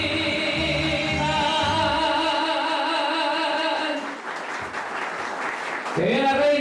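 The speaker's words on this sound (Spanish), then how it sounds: "un aplauso para ella y que viva la" Crowd applause for a festival queen at a national song festival in a rural Ecuadorian parish, clapping over loud sustained music, then a cheering, clapping burst as a voice calls out.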